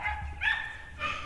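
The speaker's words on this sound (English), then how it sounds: "neighbors' dogs are barking" Neighbors' dogs bark in a few quick, muffled yaps from a moderate distance, alone and without talk.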